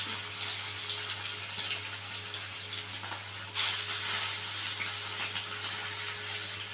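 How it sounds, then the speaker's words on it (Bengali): Salted, turmeric-coated rui fish pieces are laid one by one into hot oil, giving a steady hiss of sizzling with a sharper surge midway, close and continuous, with no talking. "নুন হলুদ দিয়ে মেখে রাখা মাছগুলো আমি একে একে দিয়ে দিচ্ছি"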